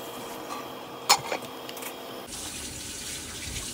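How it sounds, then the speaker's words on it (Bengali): Water is poured into a pan of spices frying for a Bangladeshi dish, a sudden hissing splash with a brief clatter, then a steady sizzle and bubbling close by. "সব মশলাটা কষে গেছে, তাই আমি একটু জল দিয়ে দিলাম।"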